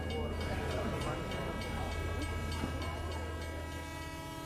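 Low rumble of a train with rhythmic clacking wheels, steady and continuous, with voices faintly mixed into the noise.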